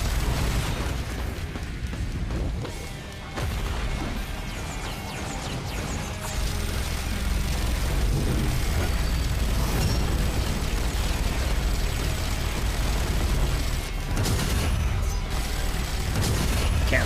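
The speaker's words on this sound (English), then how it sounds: "Look at my fucking minigun." A minigun rattles out sustained rapid fire in the video game Risk of Rain 2 during a Monsoon-difficulty run, a dense, loud, continuous mechanical roar with bursts and booms layered over it for the whole stretch.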